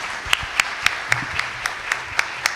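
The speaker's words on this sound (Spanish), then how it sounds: "le damos un fuerte aplauso" An audience at a corporate social responsibility forum applauds a speaker. A bed of crowd clapping runs under sharp claps that land in a steady, even rhythm.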